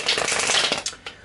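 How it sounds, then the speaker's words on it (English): Tarot cards being shuffled by hand, a brisk papery riffling that runs steadily for about a second and ends with two short sharp snaps, close and clear, with no talking over it. "while I'm shuffling the cards"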